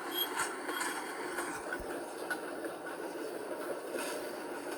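Train rolling along the track in Train and Rail Yard Simulator, a steady low rumble with faint metallic clicks and no talk.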